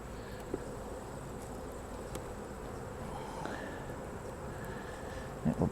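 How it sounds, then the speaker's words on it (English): Field honey bees buzzing inside an opened hive during early fall management, a steady low hum of many bees with a few louder passes near the end, no talk. "They're full of field bees."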